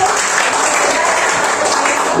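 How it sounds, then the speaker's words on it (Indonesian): A roomful of teachers at a school workshop claps together, a loud, dense and even burst of applause filling a couple of seconds with no voices over it. "Tepuk tangan untuk kita semua."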